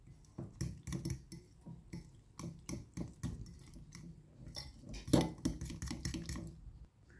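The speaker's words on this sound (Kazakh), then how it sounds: "ұнымызды 5 ас қасық салып, шаншқының көмегімен жақсылап араластырамыз." A fork clinks and taps rapidly against a bowl while flour batter for frying fish is stirred, producing close, irregular metallic ticks and scrapes with no talking.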